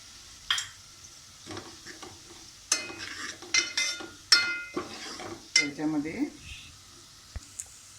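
Onions frying with homemade Malvani masala in a pan for a clam curry: sporadic stirring scrapes and clinks over a soft sizzle, with gaps of quiet between strokes.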